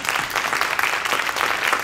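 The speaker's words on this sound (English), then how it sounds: "Let's give a round of applause" An audience at a candidates forum in Port Angeles gives a round of applause, a dense, steady patter of many hands clapping close by throughout.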